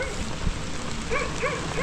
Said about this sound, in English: every time I make a move, the dog barks